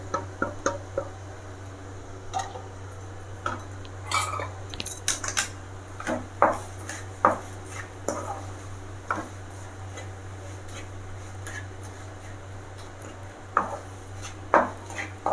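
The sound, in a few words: mixing kolumichai pickle ingredients in a bowl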